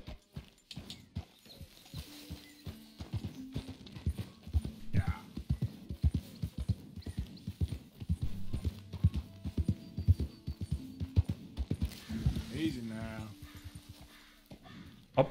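Steady clip-clop of horse hooves trotting in a regular rhythm for a long stretch in Red Dead Redemption II, with someone talking over it and occasional game sounds.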